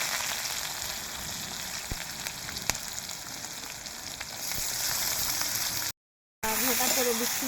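Chopped green chillies and onion fry in a pan with a steady, fairly quiet sizzle that swells slightly near the end; a person talks over it.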